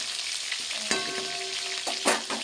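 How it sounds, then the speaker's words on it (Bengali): Steady, bright sizzling of potatoes frying in a pan for a chicken curry, close up, browning until reddish, with a few clinks and stirring scrapes from a utensil. "মাংসের আলুটাকে ভাজছি মাংস আলুটা লাল লাল করে ভেজে নিই"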